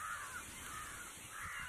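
Crows caw repeatedly over a steady wash of background noise at Usuteri lake, the harsh calls fairly faint and distant and overlapping one another.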